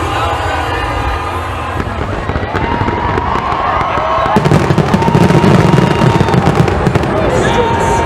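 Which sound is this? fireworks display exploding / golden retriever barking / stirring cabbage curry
fireworks display exploding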